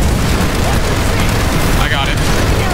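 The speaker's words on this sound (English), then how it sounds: "Yeah, I'm shooting at it right now." Dense, continuous gunfire in the video game Planetside 2, loud and sustained with booming blasts mixed in, and voices talking over the shooting.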